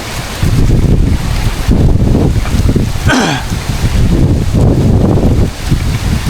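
Strong wind buffets the microphone in a loud, rumbling roar that gusts continuously, with a brief whooshing sweep partway through.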